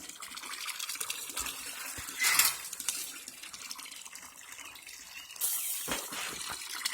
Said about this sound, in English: There's a hose I got here set up to put in fresh water constantly from my well